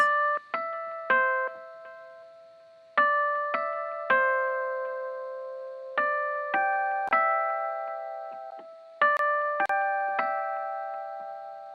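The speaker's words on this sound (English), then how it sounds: "extra melody layer on top just to add a little more to it." A simple synth melody layer in a happy beat, bright bell-like plucked notes repeating in short phrases over a sustained low tone, clear and alone with no voices.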